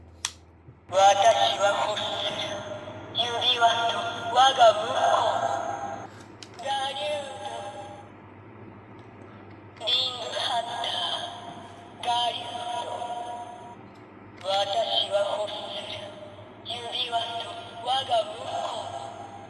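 Bright electronic tones and chiming effects from a Tega June DX transformation toy switching on, arriving in several separate bursts with short pauses between.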